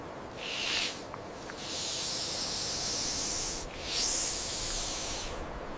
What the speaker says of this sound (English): It's a snake.